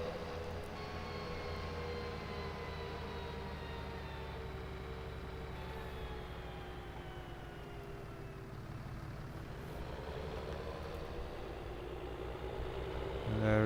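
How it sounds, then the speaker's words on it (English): Fendt tractor ploughing a field in Farming Simulator 19, a steady droning engine hum with slowly shifting tones that holds throughout, under faint voice. "there is our Fendt busy ploughing away"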